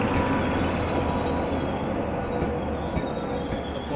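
The Konkan Kanya Express, hauled by a WAP electric locomotive, rolls past close by with a loud, continuous rumble and squealing wheels on the rails.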